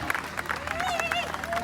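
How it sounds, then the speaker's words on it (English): Audience applause and cheering after a Four Directions Drum family performance in Portland, Oregon; dense clapping carries on steadily with a high whistle riding over the crowd noise. "Give yourself a nice round of applause"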